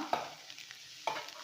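A spoon stirs chana dal sundal with freshly grated coconut in a pan, giving two short scraping strokes against the metal with a faint sizzle in between, close and fairly quiet, with no talk.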